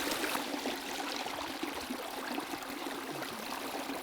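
A stream flows steadily outdoors, a constant broadband rush and trickle of water with no breaks, fairly close and even in level.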